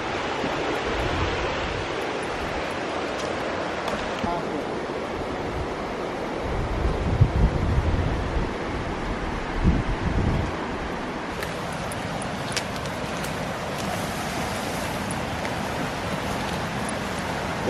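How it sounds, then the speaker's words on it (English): A remote New Zealand river flows somewhere below, a continuous broad rushing roar mixed with wind buffeting the microphone, swelling slightly midway. "There's a river down there."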